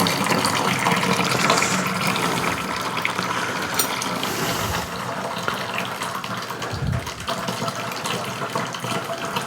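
Water run through a bucket of roasted bourbon mash grains during sparging to rinse out the sugars, a continuous loud pouring and splashing rush that holds steady throughout with occasional knocks and clatter, no speech.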